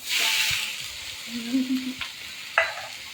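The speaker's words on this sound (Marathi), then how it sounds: "कांदा टाकल्या आता फ्राय करायला तर कांद्याला आहे ना आता चांगलं लाल होऊन द्यायचं आहे" Onions fry in a pan for a special chicken dish, a close sizzle that fades after a loud start, with a few spoon stirs and scrapes, no talking.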